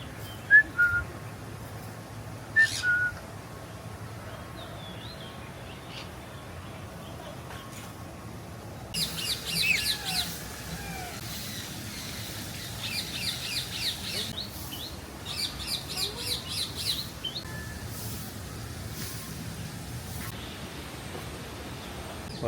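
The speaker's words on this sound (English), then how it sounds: "I love birds." Birds in a bird park call and whistle in short bursts, some clear chirps early on and denser twittering trills later, moderately near over a quiet ambient background.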